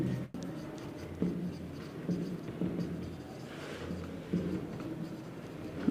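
Steady scratching of a pen writing out a geometry theorem on circles and chords in a quiet room, continuous and close with small pauses between strokes.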